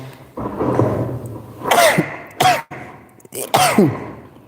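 Several sneezes in quick succession, loud and close, with short gasping breaths between them and a low murmur at the start.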